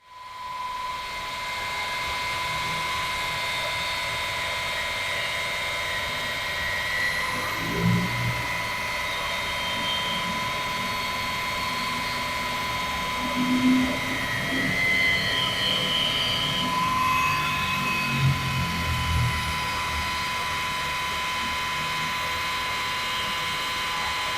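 A car polishing machine runs at higher RPM, a steady whining drone with a tonal hum that holds for over twenty seconds, with occasional low bumps and swells as the pad works the paint.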